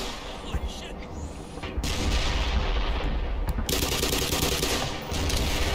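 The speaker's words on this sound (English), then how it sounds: "I think there's like a turret in there that's shooting rockets and shit." A rocket turret in Black Mesa keeps firing, giving a loud, dense roar of blasts and booms that runs almost without a break, with a brief gap near the middle.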